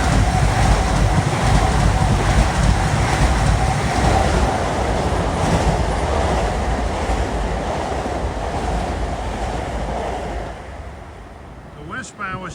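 An eastbound Long Island Rail Road M9 electric train at Queens Village rolls past with a sustained, loud broadband rumble and rushing hiss that slowly fades toward the end, with no one talking.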